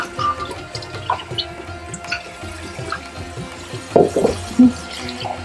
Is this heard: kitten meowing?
no